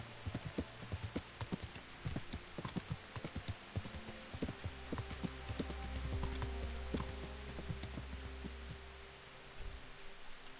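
Horse hooves clip-clop at a steady gait while riding in Kingdom Come: Deliverance, with a low rumbling bed underneath and game music tones across the stretch.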